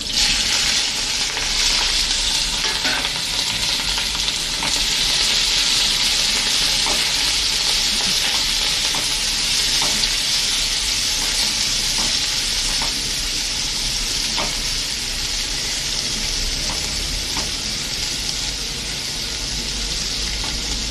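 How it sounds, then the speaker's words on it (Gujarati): Green chilies sizzle loudly in hot oil tempered with cumin and asafoetida over a low gas flame, a steady hissing fry with occasional stirring clicks. "હવે મરચાંને વઘારી લેશું."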